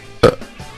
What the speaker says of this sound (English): Sorry. Burping.